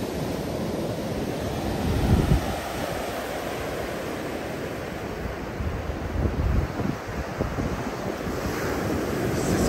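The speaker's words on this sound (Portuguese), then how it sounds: "Estamos na Praia da Cabeçuda, litoral norte de Santa Catarina." Ocean surf at Praia da Cabeçuda beach on the north coast of Santa Catarina, a continuous wash of waves with heavier swells breaking now and then, mixed with wind buffeting the microphone.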